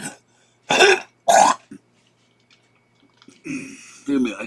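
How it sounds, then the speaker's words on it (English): A few harsh, separate coughs from a person with bronchitis, in quick bursts, close by, with short pauses between and a brief murmur of voice near the end. "I start coughing up stuff."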